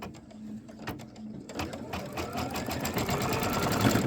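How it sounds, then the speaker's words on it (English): A sewing machine stitches down a piece of a celebration cake quilt block, starting with a few slow taps and then running into a fast, steady mechanical whir that carries on close and moderately loud. "And we'll stitch that down."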